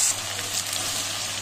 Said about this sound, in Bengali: এবার গ্যাসটাকে আমরা মিডিয়ামে রেখে পেঁয়াজটাকে ভাজবো